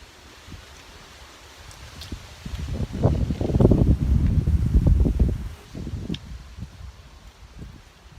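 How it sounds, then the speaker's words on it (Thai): Outdoor wind gusts buffet the microphone in a low rumbling swell that builds for a couple of seconds and then fades back to a softer rustle, with no talking. "โอ้ลม"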